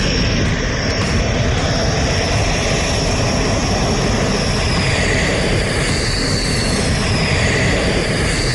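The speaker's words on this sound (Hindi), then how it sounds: "तीन 3:09 पर दंदनाते हुए 5 राफेल अंबाला एयरबेस पर लैंड किए।" Loud, continuous jet engine roar from five Rafale fighter jets landing at Ambala airbase, a dense steady rumble with a high whine, close and unbroken for the whole stretch.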